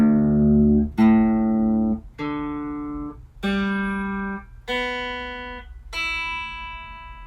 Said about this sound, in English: So, if I pluck all the open strings, it should sound like this.